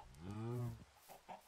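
Chicken clucking in Minecraft, with one drawn-out tonal cluck followed by a few quieter short sounds, faint and low in level.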